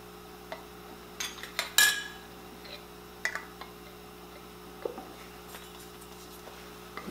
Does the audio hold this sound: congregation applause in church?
no